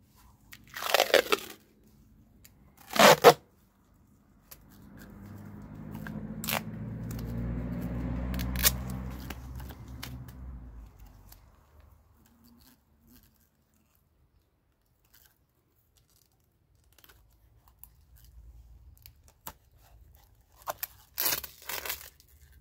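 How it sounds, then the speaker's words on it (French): Adhesive tape is ripped off a roll in a few sharp tearing bursts, then wrapped around a glass jar with a longer crinkly rustle, close up with quiet gaps between. "Un petit bout de scotch tout autour."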